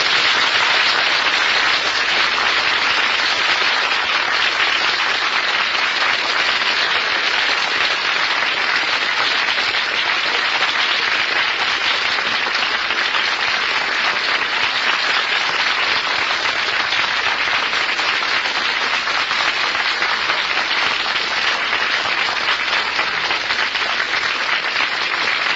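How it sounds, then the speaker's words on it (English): A studio audience at a comedy quiz show applauds continuously, a dense, even wash of many hands clapping that holds steady and loud throughout without pause. "smile and applaud as if you had"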